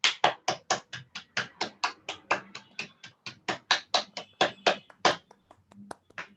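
Clapping welcomes the presiding officer at a Toastmasters educational session on the International Speech Contest. It comes as a steady series of about two dozen crisp, separate claps, close and evenly paced, as if from one or a few people.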